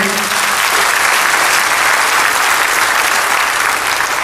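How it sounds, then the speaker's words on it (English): Loud, dense applause from a crowd at a church stop-the-violence rally, clapping continuously and evenly from start to finish. "We'd like to give the church a round of applause for welcoming this event."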